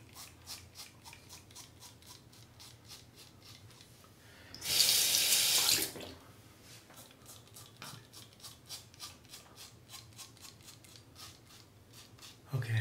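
Running tap water gushes loudly for about a second, rinsing a cartridge razor mid-shave, amid quieter bathroom handling sounds before and after.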